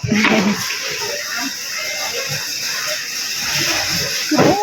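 Water sprays steadily over vegetables at a market stall in Thailand, giving a continuous close hiss that a voice briefly overlaps at the start and end.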